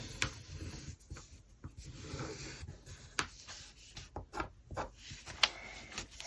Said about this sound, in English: So I'm just going to draw around.